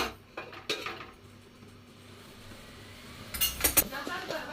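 A pot of rice being stirred with a spoon in a home kitchen, giving scattered metallic clinks and scrapes, a few early knocks and a denser burst of clattering near the end, with quiet room noise between.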